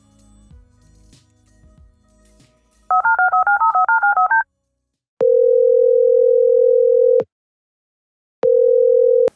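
A telephone is dialed: a quick run of touch-tone keypad beeps, then two long steady ringing tones separated by silence.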